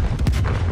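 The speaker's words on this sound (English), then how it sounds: "Throwing grenade!" A stun grenade goes off in a shooter video game as a short, heavy boom with a broad blast that fills the brief moment, loud and close.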